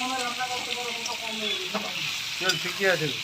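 Steady sizzling of meat frying in a pan with oil, salt and turmeric, with stirring noises and a voice talking over it nearby.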